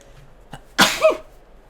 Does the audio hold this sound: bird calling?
no